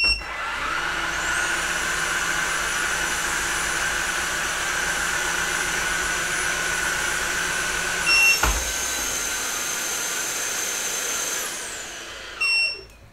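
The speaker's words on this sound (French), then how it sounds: "Donc je vous remets en route le H200 Lite," Osotek H200 Lite wet-dry vacuum cleaner running with a steady high-pitched whine and airy motor hum, a brief dip and thump partway through, then a clunk as it winds down near the end, with no talking.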